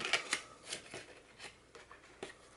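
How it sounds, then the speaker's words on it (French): Scissors make a series of quick, quiet snips and crisp cuts through paper, spaced irregularly, while a paper chocolate-bar sleeve is trimmed and its small flap bevelled. "on va couper ici droit, biseauter la petite ailette et couper droit ici"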